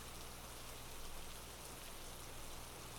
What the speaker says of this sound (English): tuning into the sound of the rain in the background